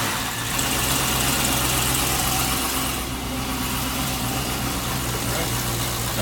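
A freshly built L92/LS3 6.2-litre V8, run without accessories, idles with a steady low rumble and a slight swell in revs partway through. Nearby voices can be heard under the engine.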